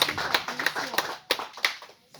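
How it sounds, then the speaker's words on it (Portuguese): A church congregation at a worship service claps for Jesus, a few sharp, fairly faint hand claps mixed with voices, irregular and tapering off into near silence. "Dê uma salva de palmas para Jesus"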